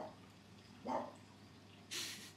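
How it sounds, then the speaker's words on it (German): A dog barks at fish in a home setting, two separate brief barks about a second apart, moderately close but not loud, over a quiet background hum. "bellt die Fische an"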